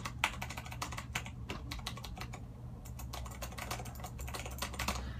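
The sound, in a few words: typing on a Razer BlackWidow keyboard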